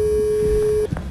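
Steady electronic telephone call tone, a single sustained pure beep held for under a second before cutting off, loud and close with faint background noise.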